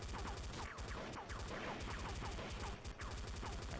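AK assault rifle fire in Fortnite, a steady rapid stream of shots repeating evenly throughout, heard quietly at low level.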